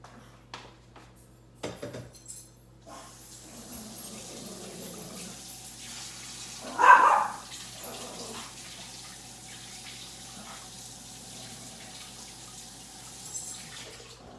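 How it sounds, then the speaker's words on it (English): Water from a kitchen tap runs softly while hands are rinsed, with a brief louder splash partway through and faint clatter at the start; no talking. "Give me 1 second, let me wash my hands out."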